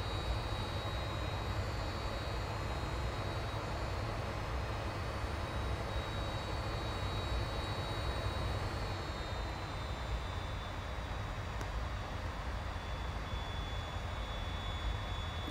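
Aircraft engine in the Infinite Flight simulator during a 200-knot dive toward the Grand Canyon, a steady broad roar with a thin high whine, continuous and unchanging throughout.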